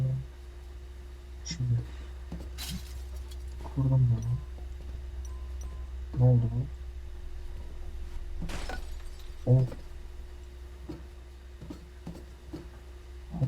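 Glass shattering in the Suicide Guy game, several short sharp crashes and crackles spaced a couple of seconds apart over a steady low hum, with bits of a voice between them.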